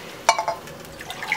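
Water from a small glass is poured into a pan for lemon chicken sauce, giving a brief close splash and a few liquid trickles and drips that fade over about a second.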